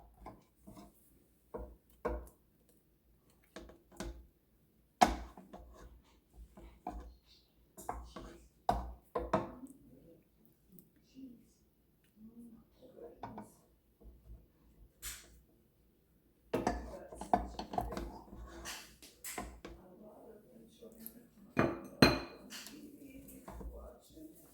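A spatula scrapes around a bowl of cheesecake batter, making repeated close clinks, knocks and smeary scraping strokes in uneven bursts, with a longer continuous stretch of scraping near the end.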